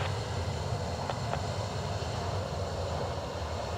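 Ryanair airliner arriving from Murcia at Dublin Airport, its engines a steady, broad roar that holds evenly from start to finish at a fairly close, constant level with no voices.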